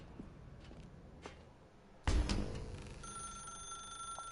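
A telephone in the video game The Stanley Parable starts ringing abruptly after a quiet stretch with faint footsteps, its bright electronic ring sustained and fairly close.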